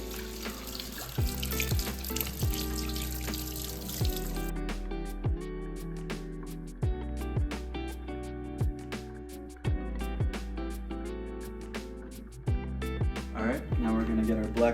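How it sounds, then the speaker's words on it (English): Cold tap water runs over lentils and trickles into a pot in a kitchen during meal prep, a steady close splashing flow that stops partway through, followed by scattered drips and clinks. "And then we just run some cold water over it."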